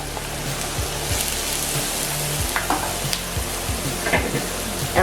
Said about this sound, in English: And we're gonna add onions, grounded up in the food processor.